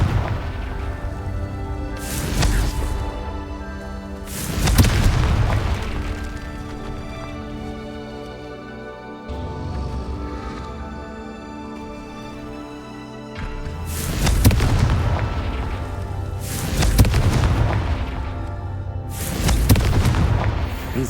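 Confringo spell explosions in the video game Hogwarts Legacy, a series of deep, booming blasts at irregular intervals, each swelling and fading over a rumbling game soundtrack.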